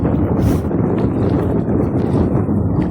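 Strong wind buffets the microphone outdoors during net fishing for crabs, a loud, steady low roar with gusty swells that fills the whole stretch and has no talk over it.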